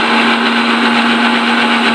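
Mixer grinder blending banana and dates with a cup of milk, a loud, steady high-pitched motor whir with a strong constant hum that runs without a break and cuts off abruptly at the end.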